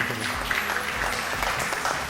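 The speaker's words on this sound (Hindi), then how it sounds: "बहुत सारी तालियां इनके लिए." A studio audience claps for guests during a Ramazan television transmission, with brief, moderate clapping over a low background tone.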